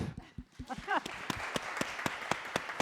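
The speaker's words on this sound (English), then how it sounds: "And please clap." An audience at a conference session on ocean governance applauds briefly, a ragged patter of claps with a voice speaking over it near the start.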